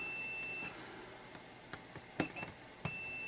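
A multimeter beeps in short bursts during continuity testing on new model railway track with a metal frog, several brief tones in quick succession over a quiet background.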